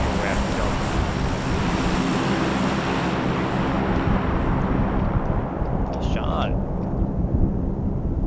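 Airplane drone in the PUBG battle royale game, a loud steady broadband roar that fills the whole stretch without a break, with faint talk mixed in.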